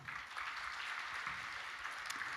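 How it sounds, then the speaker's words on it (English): Steady, moderately faint audience applause at an international law conference on a special tribunal for aggression against Ukraine, a continuous wash of many hands clapping throughout. "Your biggest round of applause."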